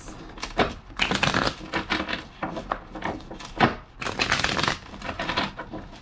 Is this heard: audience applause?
no